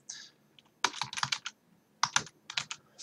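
Fingers type on a computer keyboard in quiet bursts of rapid, crisp clicks, with a short pause between runs and nothing else audible.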